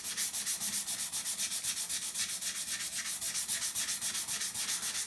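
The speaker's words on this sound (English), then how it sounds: "I'm not too worried about just sanding on the board now." Hand sanding an acoustic guitar fingerboard, steady rhythmic back-and-forth rubbing strokes at a quick even pace, close and fairly quiet, with no voices.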